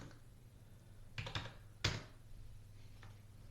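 A few quiet computer keyboard keystrokes clatter in short bursts against a low background hum.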